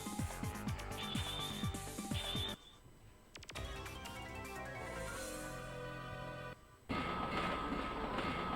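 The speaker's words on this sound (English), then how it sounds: "I love this Demon Train. Demon Train is pretty cool." Stage sounds from the Demon Train level of an imported arcade fighting game: rattling mechanical rumble and clatter mixed with music tones, briefly dropping out twice, loud and continuous throughout.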